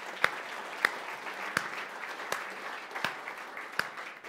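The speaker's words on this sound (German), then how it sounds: "Erstmal einen dicken Applaus." Sparse, scattered claps from an audience at a live true-crime podcast recording, a handful of distinct hand claps spaced out over a few seconds, moderately close and fairly quiet.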